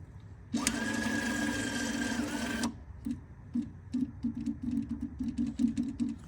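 The electronic parking brake motor on the rear caliper of an Audi A6 (C6) whirs steadily for about two seconds and then stops, followed by short intermittent mechanical buzzes.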